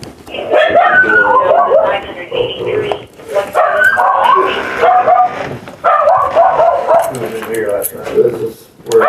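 Dogs bark and yip loudly inside a house, a little dog and a big dog, with whimpers between the repeated barking runs.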